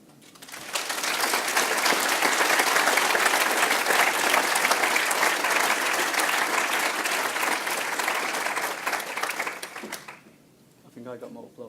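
An audience at an innovators' showcase bursts into applause, with loud, dense clapping that swells quickly, holds for about nine seconds and then cuts away to a brief voice at the end.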